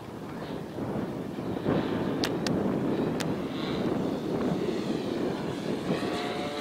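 A small electric model airplane with a 10-cell, 42-volt battery buzzes overhead with a steady whine, blended with wind noise on the microphone and a few faint clicks.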